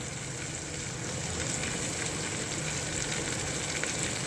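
Vegetable curry fries in a pan with a loud, steady, dense sizzle throughout, with faint scraping from stirring underneath and no talking.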